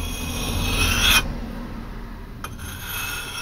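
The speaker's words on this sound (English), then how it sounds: "Trying to scrape the stone off." Rough rasping scrape of metal drawn across a budget sharpening stone, steady and close for a few seconds with a brief louder stroke near the start and a small tap later.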